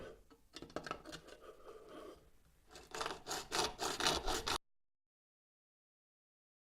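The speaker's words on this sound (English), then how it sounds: "you just take your mini hacksaw handle or hacksaw blade, drop it into the slot," A mini hacksaw cuts through a pipe held in a 3D printed mitre clamp, giving a steady rasping back-and-forth stroke close by that grows louder and faster before stopping abruptly, followed by silence.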